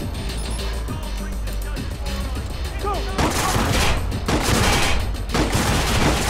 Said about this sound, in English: And how is he shooting me?